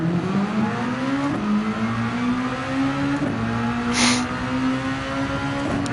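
X2014 Junior single-seater race car in Gran Turismo 7 during a feature race, its engine note whining steadily upward through the gears with short dips at each upshift and a brief hiss midway, loud and continuous.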